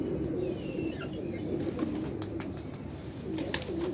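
Pigeons coo steadily in a low, rolling murmur, several birds close together, with faint flutters and small chirps over the continuous cooing.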